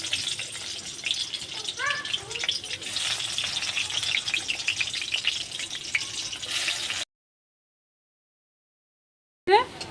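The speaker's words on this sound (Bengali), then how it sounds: "এবার আমি উচ্ছেগুলো ভেজে নেব।" Bitter gourd slices fry in hot oil with a loud, dense, continuous sizzle and occasional stirring scrapes for about seven seconds, then the sound cuts out, followed by a short burst at the very end.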